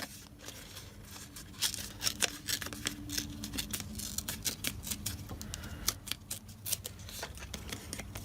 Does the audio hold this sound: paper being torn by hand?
yes